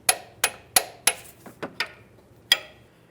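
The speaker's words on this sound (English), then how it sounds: "Now we'll torque this to 58 foot-pounds." Torque wrench clicking as a sway bar link nut is tightened during front strut replacement on a 2007-12 Nissan Sentra: a run of sharp, close metallic clicks, four evenly spaced, then a few softer ones and a final loud click.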